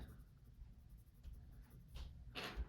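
Holbein colored pencil drawing on sketchbook paper, laying light blue over black: soft, faint scratchy strokes, a couple of brief stronger scribbles near the end, alone without talk.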